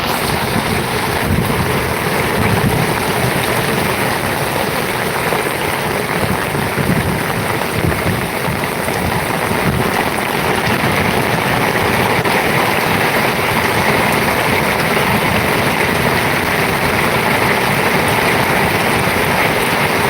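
Heavy downpour during an unseasonal summer storm in Chavand, with water running past: a dense, unbroken roar of rain and rushing water at steady loudness throughout, broadband and close, with no voices.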